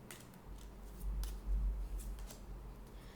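Oracle cards are shuffled and drawn by hand, soft faint riffling and card snaps in a few short bursts, close and quiet.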